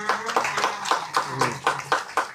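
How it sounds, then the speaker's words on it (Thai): A short burst of clapping from a small group at a Buddhist dharma talk in an elderly care center in Chiang Mai, uneven rhythmic claps over a murmur of voices, moderately close. "ทีนี้เอาเสียงปรบมือให้ท่านด้วยนะคะ"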